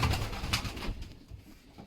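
Pigeons in a loft coo softly, a few low, throaty calls in the first second that fade into quiet room tone.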